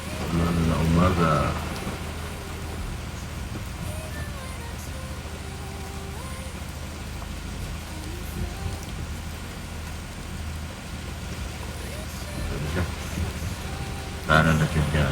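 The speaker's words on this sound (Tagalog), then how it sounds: "Ulan na umaga." Heavy morning rain pours steadily in a dense, close hiss of drops hitting surfaces, with voices talking briefly at the start and near the end.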